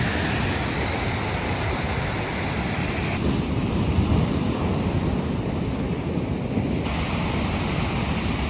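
Ocean surf rolling onto a shore near Forks, Washington, a steady broadband wash with continuous wind noise on the microphone, no voices.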